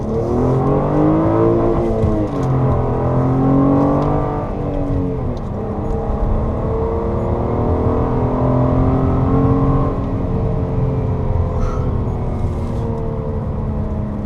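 A 2014 Honda Accord V6 Coupe with a 3.5-liter engine and manual gearbox pulls hard from a launch on a mountain road. Its deep, gurgling growl stays loud and close throughout, with the pitch rising and falling across several gear changes.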